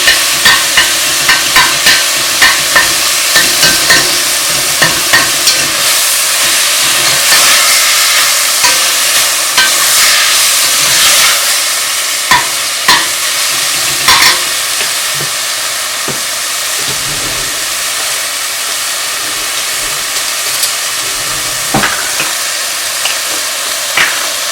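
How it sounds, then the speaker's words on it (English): Ground beef and sautéed onions cook in a pan, giving a loud continuous sizzle with rhythmic scrapes and taps of a spoon stirring, busier early and easing later. "until the ground beef and also the saute onion are well mixed in and well cooked together"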